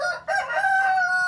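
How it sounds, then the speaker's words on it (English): A rooster that lives at a deli crows once up close, a loud drawn-out cock-a-doodle-doo with a brief break near the start, no talking. "He's the resident chicken here at the deli."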